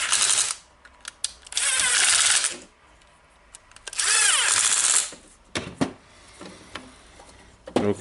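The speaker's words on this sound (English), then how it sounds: "I will screw the screws in" Screws being driven into the motor housing of a Makita BSS501/DSS501 circular saw, heard as several bursts of close, whirring power-driver noise separated by short pauses and small clicks.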